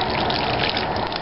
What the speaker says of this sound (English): Then you just want to take and water these in real good.